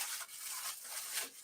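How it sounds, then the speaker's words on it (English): Plastic wrapping rubbed and peeled off a new Cyrusher Kommoda step-thru e-bike, a close, steady crinkling scrape with brief swells over about a second and a half. "let me just take off this plastic here"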